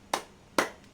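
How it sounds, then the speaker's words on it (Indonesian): Two sharp hand claps about half a second apart, crisp and close, followed by a faint third tap, part of a rhythmic spirit clap. "Tepuk semangat."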